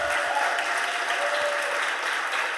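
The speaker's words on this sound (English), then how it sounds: "Can you give him a round of applause?" Steady round of applause from an audience at a Philadelphia City Council stated meeting, filling the room evenly and continuing without a break.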